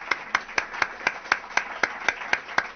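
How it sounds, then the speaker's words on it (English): A small audience claps for a panel discussion on hunger in America, about a dozen evenly spaced sharp claps in a steady rhythm, close and moderately loud, sounding like only a few people. "If you could, everybody give them a round of applause."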